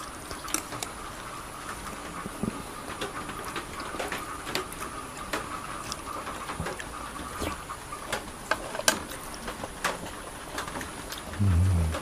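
Heavy rain pours down in a continuous soft hiss, with scattered sharp drips and splashes cutting through. A brief low rumble swells near the end.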